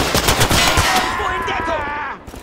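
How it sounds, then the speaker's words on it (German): Enemy machine gun fire in Call to Arms - Gates of Hell, Way to Warsaw 1939 mod siege: dense, rapid bursts of gunfire filling the first half, thinning into a lingering noisy tail that fades near the end. "Feindliches Maschinengewehr!"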